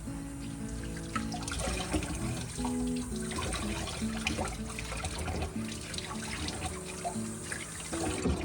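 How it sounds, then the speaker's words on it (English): Tap water runs into a sink while the cap of a sourdough starter jar is washed by hand, a continuous close splashing stream with small knocks and drips, quiet overall and without speech. "Now we're gonna wash the cap."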